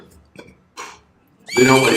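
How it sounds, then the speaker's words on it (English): Epona, a young horse in Zelda: Ocarina of Time (1998), neighing loudly with a bright, drawn-out whinny after a few short breathy snorts, close and clear. "I learned Epona's song, and then, check it out, horse likes me"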